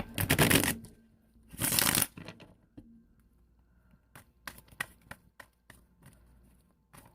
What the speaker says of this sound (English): I'm going to go ahead and shuffle this right quick